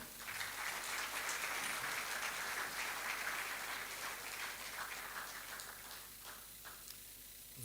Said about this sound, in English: Please, another round of applause, this time a good one.